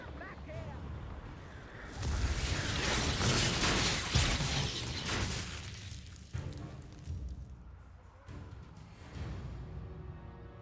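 An Expulso spell explodes in the video game Hogwarts Legacy: a loud, booming blast erupts and rumbles on for several seconds before trailing off into scattered crackling debris.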